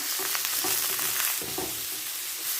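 Garlic stirred into about two tablespoons of oil in a kadai gives a steady, close sizzle and fry, with scraping spoon strokes across the pan throughout.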